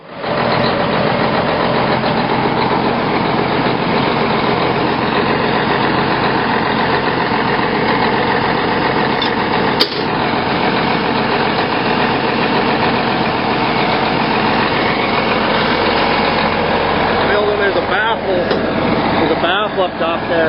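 A tractor engine runs at a steady, loud idle for the whole stretch, a dense continuous drone with a brief click midway, while people talk over it.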